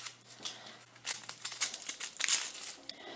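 Papery outer skin of an onion being peeled away by hand, a run of dry crinkling and crackling rustles that grows busier and louder toward the end, close up with no talk.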